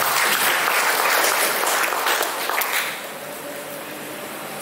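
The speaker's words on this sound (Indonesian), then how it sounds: "Tepuk tangan untuk Mas Samsul Pak." Loud, dense applause from participants at a youth political school event in Tegal, welcoming a discussion moderator; strong clapping for the first three seconds, then settling into a lighter steady patter.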